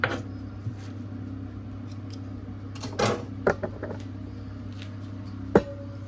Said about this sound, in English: Just chop a few leaves of mint.